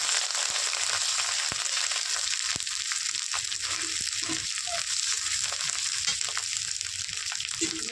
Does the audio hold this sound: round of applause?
no